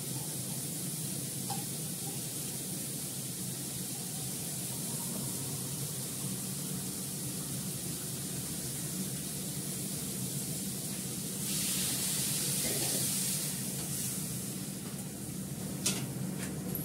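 Water poured into a hot pan of frying potatoes produces a faint, steady hiss and sizzle that swells louder for a couple of seconds before easing back, with no talking.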